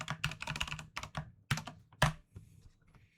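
Someone types a password on a computer keyboard during a Fedora Linux update, a short close burst of quick key clicks that pauses, then ends in a couple of firmer strokes, likely the enter key.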